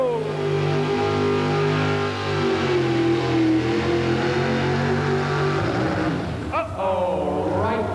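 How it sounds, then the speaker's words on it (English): A big pulling tractor engine revs loudly at a 1984 truck and tractor pull, its pitch climbing and holding, then dropping and surging again, while a voice talks over it. "He's revving her up."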